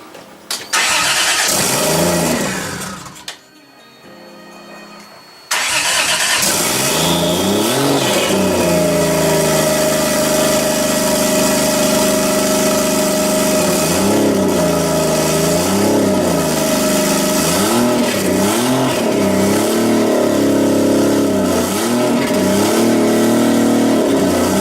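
After a brief quiet pause, a Toyota Supra engine cranks and fires, settles into a rumbling idle, then is blipped through a series of repeated revs, loud and close, with no voices.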